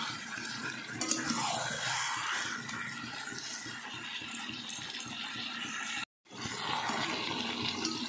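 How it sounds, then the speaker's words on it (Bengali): Chicken meat braising in a pan gives off a loud, continuous sizzle, with a spoon scraping and stirring now and then and a brief cut to silence near the end. "মাংসটা ভালো করে কষিয়ে নিই।"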